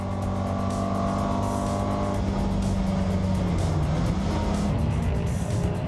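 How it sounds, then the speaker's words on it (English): Race cars, among them a Datsun, roar around a circuit toward a corner, with loud, steady engine noise and a rising and falling pitch as the cars run side by side and one pulls ahead. No voices are heard. "Manigault pulls ahead as they head for Castrol Corner"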